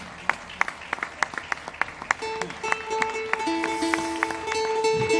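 Scattered, sharp handclaps greet a folk group at a soloists' gathering in Agüimes, then sustained musical tones rise beneath the fading claps.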